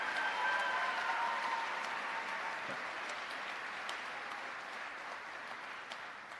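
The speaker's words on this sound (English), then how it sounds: "Please join me in a round of applause for these students." A crowd in a university auditorium applauds dental students at a School of Dentistry white coat ceremony, an even, fairly distant wash of clapping that continues throughout and slowly fades a little toward the end.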